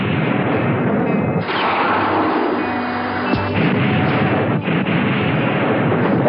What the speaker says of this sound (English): Second battery. Fire second battery.